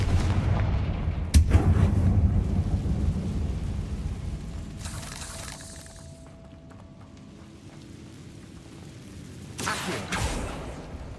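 A Confringo fire spell blast in Hogwarts Legacy booms with a sharp crack and deep rumbling explosion, followed by a lingering roar and another blast near the end.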